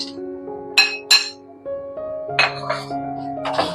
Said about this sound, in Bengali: ঘিটা মেল্ট হয়ে এসেছে। এবার আমি কিশমিশ, কাজু বাদাম, তেজপাতা, দারচিনি, এলাচ, লবঙ্গ দিয়ে দেব।